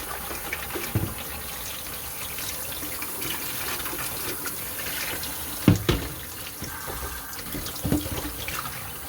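Cold tap water runs steadily over ice-dyed fabric in a sink, a close, even gush with a few soft clunks and splashes as the cloth is handled.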